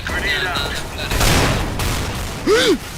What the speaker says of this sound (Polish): nie strzelaj tak, tak od razu, tylko weź tak seriami strzelaj